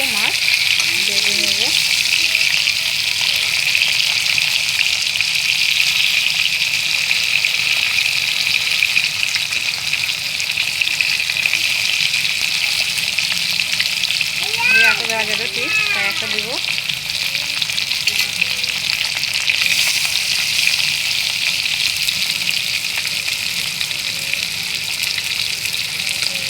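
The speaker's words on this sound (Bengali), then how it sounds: "সুন্দর মাছ ভাজা হয়েছে। দেখো তেল কিন্তু অনেক তেল বেরোচ্ছে মাছটা দিয়ে।" Pieces of fish fry in plenty of oil in a pan, with a constant loud, hissing sizzle that carries on unbroken throughout, plus a few faint scraping sounds along the way.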